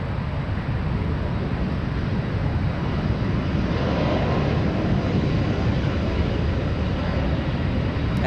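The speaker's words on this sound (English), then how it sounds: "there goes the A321neo out of here" Airbus A321neo airliner taking off from San Francisco airport, a steady broad roar of jet engines heard from a distance, sustained and even throughout with no voices.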